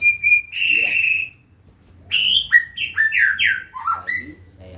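A white-rumped shama (murai batu), a tame caged songbird, sings loud and close: a sustained whistle, then a rapid run of varied bright chirps and warbling phrases, with short pauses between.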